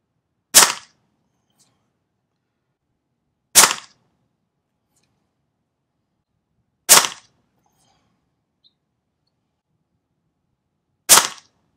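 PP700SA PCP air pistol fired without a moderator, four sharp, loud cracks spaced a few seconds apart with near silence between shots.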